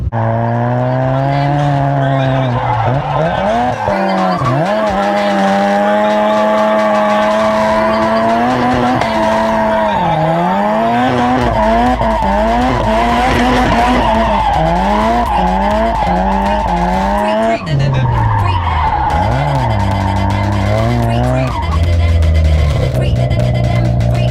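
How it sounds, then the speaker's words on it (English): Car tires skidding and squealing on a track during hard driving, loud and sustained with a wailing engine rising and falling beneath, and a voice talking over part of it. "So let's skid, let's do some stuff."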